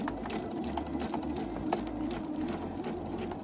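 A sewing machine stitches bias tape slowly around a curve, its motor running in short, evenly spaced bursts over a steady mechanical whir.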